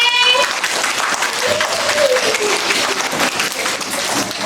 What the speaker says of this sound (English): Do clapping.